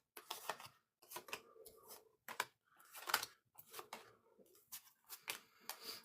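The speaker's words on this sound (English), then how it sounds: "I'm just going to do a hard shuffle again." Tarot cards being shuffled hard, with repeated crisp bursts of riffling and slapping in uneven clusters, close but quiet, with no voices.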